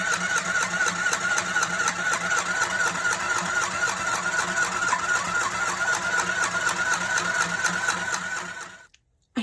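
A small sewing machine runs a steady straight stitch around the edge of a handmade vintage-style Christmas journal cover, whirring loudly and rhythmically close by, then stopping abruptly near the end.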